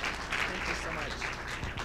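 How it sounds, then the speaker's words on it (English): Applause from a school board meeting audience, moderate and fairly steady with a faint voice mixed in underneath. "So let's give them one more round of applause."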